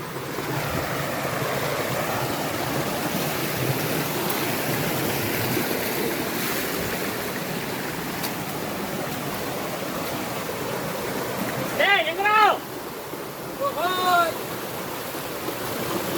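Durai waterfall pouring over rocks, a steady broadband rush of falling water filling the whole stretch, with two brief bird-like chirps rising above it near the end.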